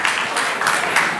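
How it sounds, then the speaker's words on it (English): Audience applause for presenter Jessica Willis after a talk on interactive content, a brief, steady wash of clapping from a modest crowd, moderately loud and without voices. "Round of applause for Jessica"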